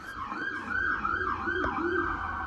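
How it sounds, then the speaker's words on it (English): Emergency vehicle siren wailing continuously in repeated rising and falling sweeps, fairly loud and steady throughout, with no talking over it. "hold on, sirens"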